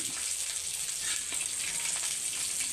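Butter and garlic sizzle steadily in a pan, giving a constant, close, dense frying hiss with no breaks and no speech.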